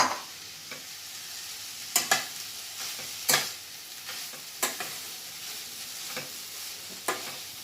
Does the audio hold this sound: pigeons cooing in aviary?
no